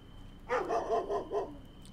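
Dog in the RPG ATOM RPG, village of Otradnoye, barking four quick times in a short burst, moderately close and clear, with no talk over it.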